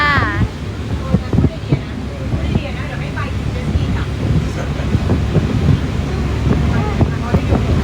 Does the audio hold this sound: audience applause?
no